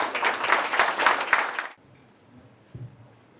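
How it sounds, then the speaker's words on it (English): An audience applauds master artist Leroy Clarke at his 70th celebration with a dense burst of clapping that cuts off abruptly partway through, leaving a quiet room and a faint thump. "So applaud Master Artist Leroy Clarke"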